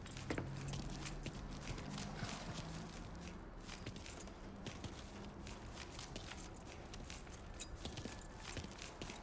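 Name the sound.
keys jangling as they are picked up, from the video game Mafia 3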